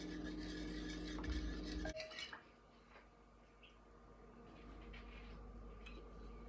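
Sourdough starter gets stirred in a bowl, giving soft, wet scraping and light clinks of the utensil against the bowl, close but quiet, with a faint background hum.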